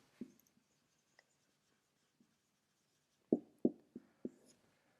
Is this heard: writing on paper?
yes